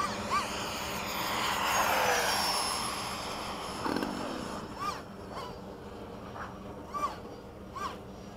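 F-15 jet making a high-speed low pass, a broad roar swelling and fading over a couple of seconds, followed by quieter background with scattered bird-like chirps.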